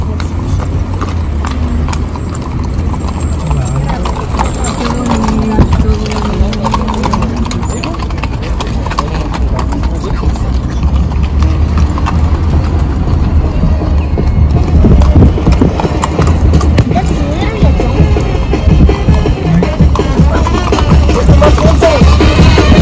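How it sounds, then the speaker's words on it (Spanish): A pony's hooves clip-clop in a steady rhythm on a street in the centre of Zamora, Michoacán, mixed with a low engine hum, as people chat and call out loudly over the hoofbeats. "A una pony."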